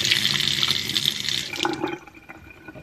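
Water runs steadily from a homemade gravity-fed faucet, a loud close splashing stream that eases and thins toward the end, with no talking.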